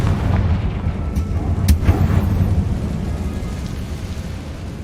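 Confringo explosive spell cast in Hogwarts Legacy, a rumbling blast with a sharp crack partway through and a low roar that fades out, heard alone without speech.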